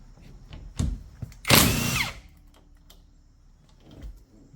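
An impact wrench working a 19mm bolt loose on a car's steering assembly gives one short, loud mechanical burst with a whining rattle, framed by quieter clicks and handling noises nearby.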